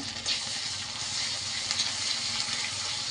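Ginger and garlic paste fries in a pan with a steady, close sizzle that holds evenly from start to finish, no voices over it.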